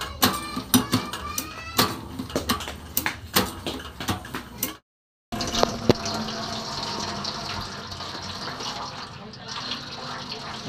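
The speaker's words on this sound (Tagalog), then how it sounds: "Lagyan ko ng tubig para matry natin yung performance." Water gushing and splashing as it is poured into the tank of a Golden Agin Tung Ho sprayer under repair, a steady close rush after a short gap, preceded by clattering knocks and handling sounds.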